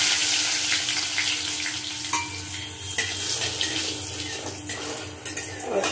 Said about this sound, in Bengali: তেলে 1/2 চামচ গোটা জিরা দেব, আর তেজপাতা আর শুকনো লঙ্কা ফোড়ন দেব।